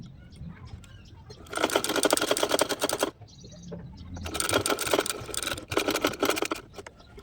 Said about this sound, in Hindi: तो अब आगे हमें इस लेस को इस तरफ से ऐसे पलटना है और यहाँ से साइड से सिलाई लगानी है।